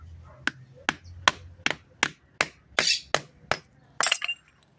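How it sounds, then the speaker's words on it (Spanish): A small hammer strikes a bent engine part from a Ford Fiesta against a brick joint, about ten sharp, close metallic taps at an even, slightly quickening pace. "voy a utilizar el pie mismo, la junta del ladrillo y un martillito. Con eso voy a enderezarlo como si enderezara un clavo."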